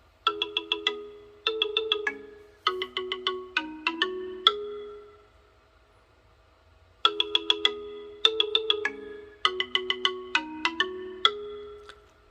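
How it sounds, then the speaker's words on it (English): Bright melodic ringtone called Joyous played through the bottom speaker of a Ulefone Note 11P phone, two loud bursts of quick chiming notes separated by a short silent gap. "So I want to play a little bit of a ringtone here."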